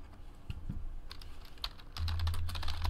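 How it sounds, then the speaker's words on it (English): Rapid keystrokes on a computer keyboard, clicking in short irregular bursts close by, with a low hum joining partway through and no voices. "Let's type these hits in"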